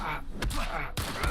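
Enemy gunfire in an Indiana Jones video game comes as two sharp, booming shots about half a second apart, sounding fairly close and loud.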